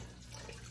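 Water runs steadily into a cooking pot while making caldo, a soft continuous trickle close by with no voices over it.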